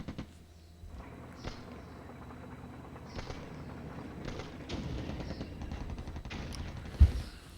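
Gunfire from an A-10 Warthog giving aerial cover in Flashpoint Campaigns: scattered, fairly distant bursts and thuds over a low background rumble, ending in one sharper, louder hit.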